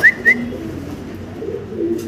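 Lahori pigeons give soft, low cooing in a pigeon market setting, preceded by two sharp whistled chirps, close and fairly quiet, with no talking.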